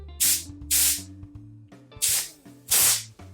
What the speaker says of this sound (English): I opened the nozzle for the sand, and everything should be fine now